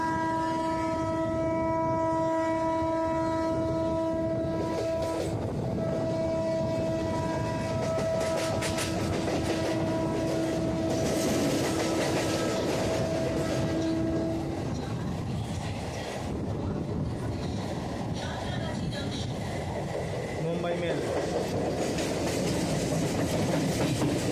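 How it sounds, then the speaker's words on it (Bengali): An express passenger train, the Mumbai Mail running from Howrah to Mumbai CSMT behind a locomotive, passes close by with loud sustained rumble and wheel clatter, a long horn tone sounding over the first half before the roar of the passing coaches takes over. "এই এক্সপ্রেস ট্রেনের লোকোমোটিভ রয়েছে পি সেভেন আর এটা হলো হাওড়া থেকে মুম্বাই সিএসএমটি পর্যন্ত চলাচল করা মুম্বাই মেল"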